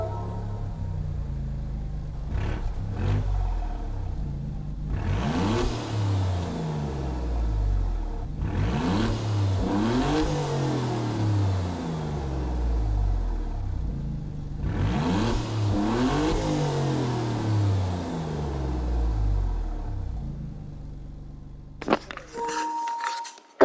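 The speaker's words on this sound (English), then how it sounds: "Now let's listen to the engine of the Giulio" An Alfa Romeo Giulia sports car engine in Gran Turismo 7 revs up and down in three long sweeping pulls, steady and loud throughout, ending with a brief clatter.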